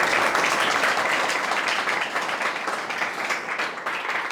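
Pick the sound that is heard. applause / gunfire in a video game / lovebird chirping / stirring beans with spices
applause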